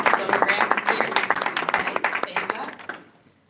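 An audience applauds student essay winners at a Martin Luther King Jr. celebration in a cathedral, sustained lively clapping that fades out toward the end.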